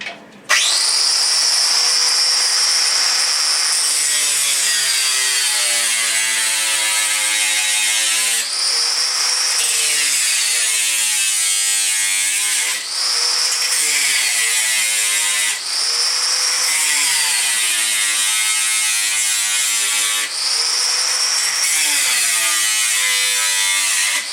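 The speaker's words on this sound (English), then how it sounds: "This is the difference between a hacksaw blade in a jigsaw and a disc, certainly where the noise is concerned." A jigsaw fitted with a cutting disc cuts a Triumph bash plate, producing a loud, harsh, continuous whine. The pitch sags and recovers in several bursts as the disc bites into the workpiece.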